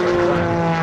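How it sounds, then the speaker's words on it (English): An Extra 300 aerobatic propeller airplane flies at a military base air show in Hawaii, a brief, loud, steady droning engine and propeller tone with strong harmonics. "originally flying in the S-1C, Jackie now flying that beautiful Extra 300."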